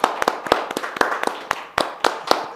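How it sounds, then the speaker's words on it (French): Applause at a church alliance gathering: sharp, uneven handclaps from a modest group, close and lively, lasting a couple of seconds with no voices over it. "Ça mérite quand même des applaudissements"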